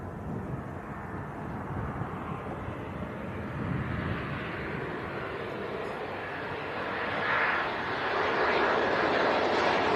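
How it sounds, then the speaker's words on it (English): A KLM Embraer E190 airliner on final approach to Leeds Bradford Airport produces a steady, rising engine roar with wind noise. The sound grows gradually louder as the aircraft nears. "That's KLM from Amsterdam, an Embraer E190."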